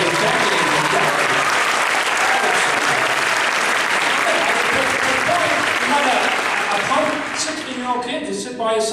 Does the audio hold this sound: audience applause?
yes